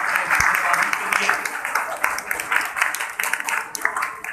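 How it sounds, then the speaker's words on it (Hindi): Audience applause at a 2020 Ziarat gathering: a steady, dense wash of many hands clapping together, sustained for several seconds at an even level with a faint murmur of voices underneath. "भरपूर तालियां बजाएंगे अपने के लिए"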